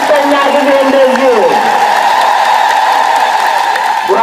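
A crowd at an Ethiopian Orthodox church gathering in Awasa ululates and claps in welcome of a bishop, a sustained loud, dense wall of trilling voices and hand claps that holds steady throughout.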